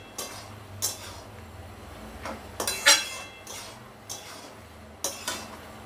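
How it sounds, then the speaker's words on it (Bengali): A utensil stirs a pumpkin and coconut curry in a cooking pot, giving a series of separate scraping clinks spaced about a second apart over a quiet background. "এবার আমি এটাকে একটু নাড়ব"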